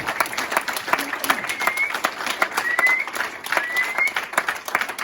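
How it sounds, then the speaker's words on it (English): A crowd gives a round of applause at a football club awards moment after a match, steady dense clapping that swells and holds for several seconds at close range. "I think that's worthy of another round of applause."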